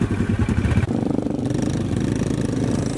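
Trail motorcycle carrying farm harvest along an unpaved village track, its engine loud and close with a throbbing, rattling idle that shifts in pitch partway through.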